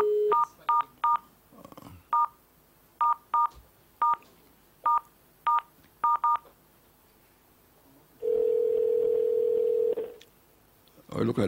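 Touch-tone telephone dialing during a call to the police: about a dozen crisp, evenly spaced keypad beeps in quick succession, then a steady, loud tone held for roughly two seconds, with no talking.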